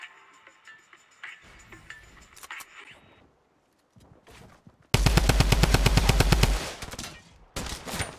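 A drum gun firing in Fortnite, a long, loud, rapid burst of automatic shots, followed later by another short burst, after quieter game effects.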